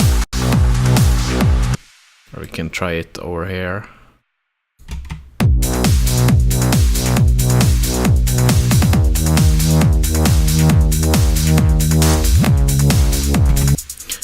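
A trance drum loop programmed in Ableton Live, with kick, clap, shakers, open hi-hat and crash, pounds steadily and loudly after a short quiet break. Someone speaks briefly near the start.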